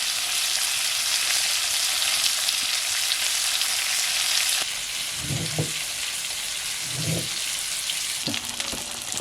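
Mackerel fry in hot oil in a pan over a wood-fired clay stove, with a dense, steady hiss and crackle. The hiss quiets slightly partway through, and a few low thuds follow.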